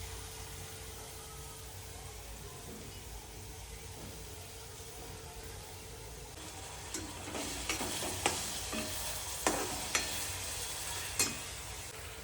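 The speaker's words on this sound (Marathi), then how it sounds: "पप्पांनी तेल कढईमध्ये टाकलंय, आता त्याच्यामध्ये कांदा टाकलाय।" Chopped onion frying in oil in a kadai for chicken rassa, a steady low hiss with occasional scraping stir strokes toward the end, close and alone without speech.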